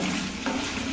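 Okra sizzles as it fries in hot coconut oil and is stirred in the pan. A steady, close crackling hiss carries on for a moment, with a faint scrape of stirring and no talk.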